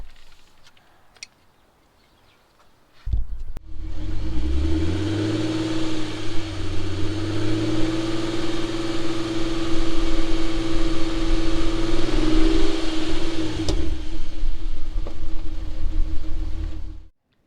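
An Audi TT 3.2 V6 with a misfire cranks and starts after a quiet pause, then idles roughly with an uneven, lumpy hum and slight rev changes before being shut off near the end.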